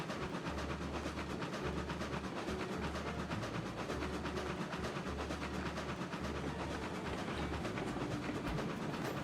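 A powerful locomotive hauls a load up a steady grade in Railroads Online, a continuous rumbling drone with rhythmic low chuffing pulses repeating evenly throughout.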